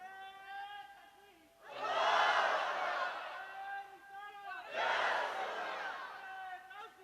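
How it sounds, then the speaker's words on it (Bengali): A large crowd at a Bengali religious sermon gathering shouts takbir in two loud, swelling unison roars, with a preacher's amplified chanting voice sustained between and beneath them. "হাবিব একটা জোরে তাকবীর দাও।"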